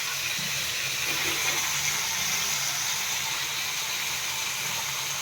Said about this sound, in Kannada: ಚೆಂದಾಗಿ ಫ್ರೈ ಮಾಡ್ಕೋಬೇಕು